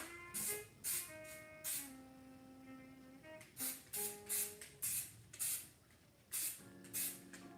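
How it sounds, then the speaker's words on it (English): Cleaner spray hisses onto a road bike in about a dozen short, sharp bursts, close and fairly loud, spaced unevenly with quiet gaps between them. "I spray down one side."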